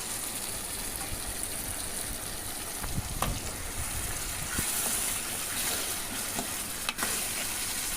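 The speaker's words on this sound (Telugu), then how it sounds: "అల్లం బాగా వేగాక అందులో చికెన్ వేసుకోండి" Chicken pieces with ginger fry in a pan for a home chicken curry, a steady close sizzle broken by a few louder stirring scrapes and bursts midway, with no voices.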